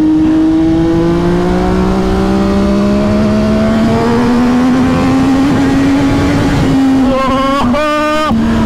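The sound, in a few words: MV Agusta F3 800 three-cylinder motorcycle engine accelerating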